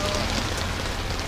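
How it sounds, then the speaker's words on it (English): Heavy rain lashing down on a zipped-up tuk-tuk during a thunderstorm near Angkor Wat, Siem Reap, Cambodia, a dense steady roar of drumming drops filling the whole moment. "And it is lashing down with rain."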